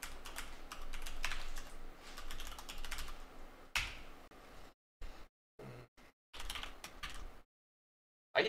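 Typing of an email address and password on a computer keyboard, with rapid close clicks in bursts and short pauses between them.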